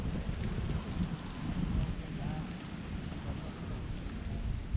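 Heavy rain and strong wind lash an exposed rocky hilltop at Ramadevara Betta, a steady dense roar of rain with gusty buffeting, continuous and close, with no clear voice over it.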